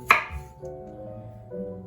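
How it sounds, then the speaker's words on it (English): A single sharp knife chop cuts a beet into quarters on a cutting board, followed by a faint low hum from the room. "I'm going to cut that into quarters"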